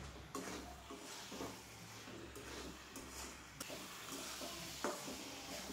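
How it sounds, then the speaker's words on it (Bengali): Chilli, turmeric and green chillies are stir-fried in a pan, a quiet low sizzle broken by scraping spatula strokes and a few soft clinks against the metal, close by with no voices. "মশলাগুলোকে দিয়ে খুব ভালোভাবে কষিয়ে নিতে হবে প্রায় 3 থেকে 4 মিনিট।"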